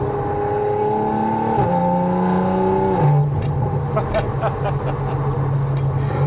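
An Audi RS4 with a 331 kW engine revs hard under acceleration on a drive through Waterfall City, loud and close, its pitch climbing through a gear change and settling into a strong drone.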